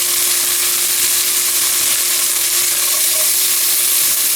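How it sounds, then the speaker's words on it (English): Bacon sizzling loudly in a hot pan before cabbage goes in for Southern fried cabbage, a steady, close, hissing fry that holds without a break and with no talk. "Alright, we're going to add our bacon back in."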